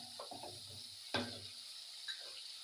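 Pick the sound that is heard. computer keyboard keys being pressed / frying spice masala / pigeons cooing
frying spice masala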